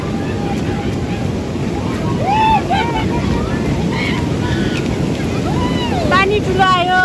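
Rushing flood water during a landslide near a village, a loud continuous roar with wind buffeting the microphone, with excited shouting voices heard over the torrent.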